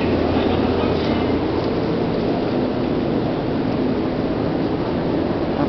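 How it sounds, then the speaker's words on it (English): A local train bound for Namba pulls into a station in Izumiotsu, Japan, a loud, steady rumbling roar with a broad hiss that holds evenly throughout, no talk over it. "And this is my train."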